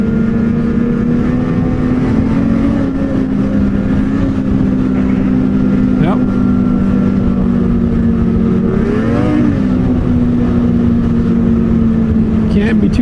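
A snowmobile engine runs at full throttle on a trail, a loud, close, steady drone with a small pitch rise and dip partway through. Wind noise is faintly audible behind it.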